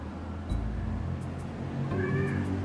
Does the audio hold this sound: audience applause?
no